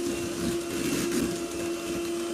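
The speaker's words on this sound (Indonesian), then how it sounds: "Campur rata menggunakan mixer, cukup kecepatan rendah, sebentar aja." An electric mixer on low speed beats an egg into cookie dough, giving a steady, even motor hum with a strong constant tone and slight fluctuations as the beaters work, fairly close and without talk.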